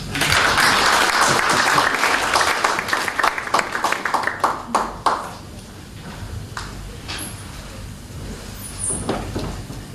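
Loud applause from an audience that swells at first, then thins to scattered claps and fades into room noise with a few faint distant pings.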